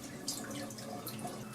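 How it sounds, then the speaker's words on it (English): Water drains from a bathtub after a lamé garment has been washed, a soft close trickle and gurgle with occasional drips and no voices. "I'm going to let the tub drain from all of this water."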